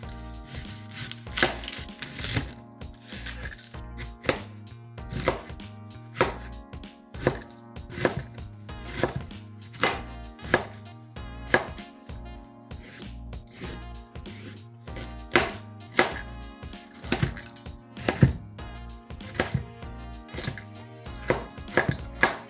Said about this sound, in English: peeling and cutting onions, celery and carrots